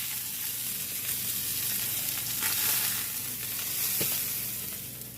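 Steak tips sizzle in a hot cast iron pan with a steady, close frying crackle throughout and no voices.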